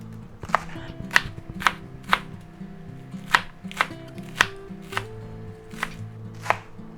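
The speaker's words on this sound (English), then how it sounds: "now we're going to go ahead and chop up our green onions" Green onions are chopped with a knife on a board, about a dozen sharp, evenly spaced chops ringing out clearly, with quiet background noise between strikes.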